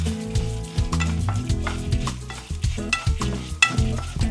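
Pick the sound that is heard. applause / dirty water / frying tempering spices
frying tempering spices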